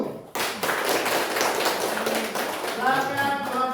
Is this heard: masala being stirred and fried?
no